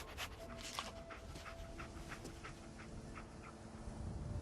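A dog companion in the video game Fallout 4 pants in quick, rhythmic breaths with soft sniffs, close and fairly quiet over a faint low ambient background, with no talking.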